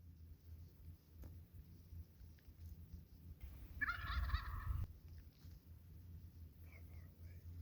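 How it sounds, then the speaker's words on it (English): Wild turkey gobble, distant and brief, rolling out once outdoors during a spring hunt in Washington State over low wind and ambient rumble. "Turkey's strutting on the corner of the road down there."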